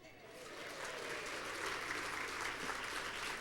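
Club members at a Christmas meeting applaud, a soft, distant patter of clapping that swells slightly after starting and holds steady, with faint voices underneath.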